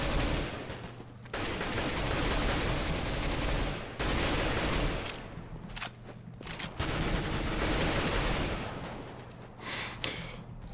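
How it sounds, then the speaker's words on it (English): Counter-Strike: Global Offensive gunfire comes in loud rapid bursts of automatic fire, several long sprays broken by short pauses, close and harsh. "Kind of randomly shooting there."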